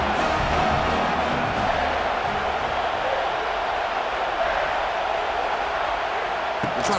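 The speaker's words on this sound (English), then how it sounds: "tremendous crowd atmosphere now in the final minute of play." A stadium crowd roars steadily in EA Sports College Football 26 during the final minute of a close game, a dense, constant wall of cheering with no breaks or lulls throughout.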